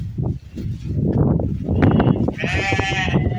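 Sheep bleat in a breeding pen housing composite sheep crossed with Merino, several harmonic calls rising over steady rustling and low farmyard noise toward the end.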